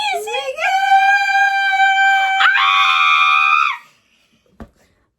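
A high, piercing scream held for several seconds, rising in pitch partway through, then cut off, followed by a single faint knock.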